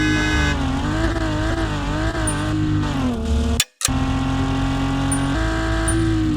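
Racing car engine in the video game Revhead, revving in a loud continuous whine that climbs and dips with gear shifts, briefly cut by a short gap before resuming.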